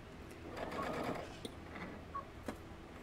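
Sewing machine stitching a puff quilt, a quiet, rapid whirring run of stitches that rises in the first second, then eases into a few short clicks and taps.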